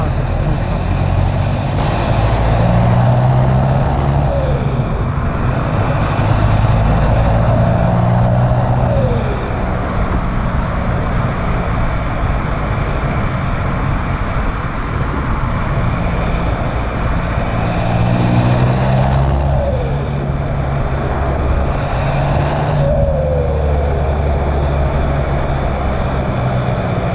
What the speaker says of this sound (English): Whatever it is, you can never get enough of the turbo flutter.